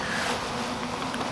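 Asian hornets caught in a trap give a dense, continuous buzzing drone, loud and close, with no pauses and no voices over it.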